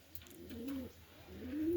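Pigeons coo inside a loft housing Mundian and Satin breeds, giving soft, low rolling calls that swell twice and then rise louder toward the end, with no talk.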